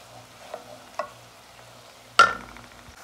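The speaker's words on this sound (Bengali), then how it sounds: "এবার আমরা ভালো করে ভেজে নেব মশলাটা।" Quiet sizzling of curry powder and spices frying in a pan, punctuated by a few stirring scrapes and clinks, with one sharper clatter near the end.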